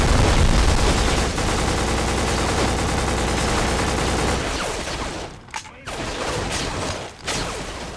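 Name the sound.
gunfire and explosions in PS2 video game Black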